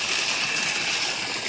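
Water gushing from a new-technology motor pump on a Nepali village farm, a continuous, close, even rushing flow with no pauses.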